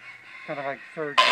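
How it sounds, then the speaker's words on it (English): A rooster crows in two short harmonic bursts beside a boat being stripped of old fiberglass, with a person talking and a loud, hissing grinder burst cutting in at the end. "Okay, you hear the rooster crow"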